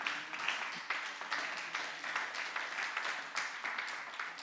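A church congregation applauds in a continuous, moderately loud patter of many hands clapping with steady rhythm, with faint voices mixed in.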